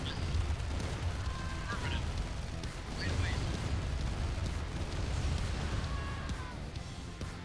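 Turrets being destroyed in Command & Conquer Remastered: rumbling explosions and booming fire roll continuously under game sounds, with a few brief tonal unit chirps mixed in.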